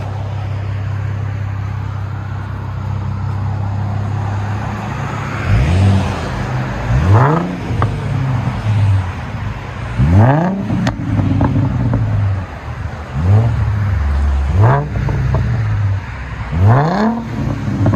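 A 2012 Ford Mustang 3.7L V6 with Flowmaster Flow FX dual exhaust idles with a low rumble, then revs sharply several times in quick bursts, each rising and falling back to idle.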